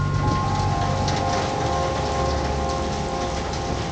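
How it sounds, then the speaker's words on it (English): Steady, heavy rain pours down in Chiang Mai, Thailand, a dense, even hiss of drops on surfaces that stays close and loud throughout, with no voices. "After the first temples, it starts to rain again."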